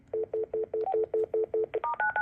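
An AT&T CL83464 office phone sends speed-dial DTMF tones, about ten quick, evenly spaced beeps at a steady rhythm, then a few shifting final tones, close and clear with nobody speaking.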